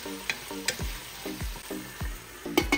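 Tomatoes cooking in a pan sizzle steadily while a utensil scrapes and stirs in regular strokes, about one every half second, close and moderately loud with no talking.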